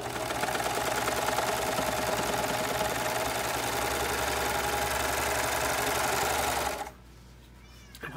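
An overlocker serger stitching a fabric seam, a loud steady rapid mechanical whirr running for several seconds before stopping abruptly, leaving a quiet room.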